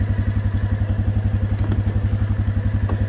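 A 2008 Yamaha Wolverine 350 2WD four-wheeler engine idles steadily nearby, a loud, even low-pitched thumping putter with a slight clatter, running alone without talk.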